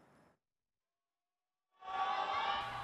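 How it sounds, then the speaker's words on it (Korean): Fans cheer and chant in a packed arena at a Korean men's pro volleyball match between Korean Air and OK Financial Group on Christmas, a loud crowd roar that rises after a brief silence. "만원 관중이 들어찬 가운데 팬들의 응원전이 펼쳐지며"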